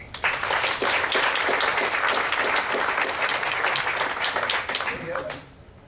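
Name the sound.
audience round of applause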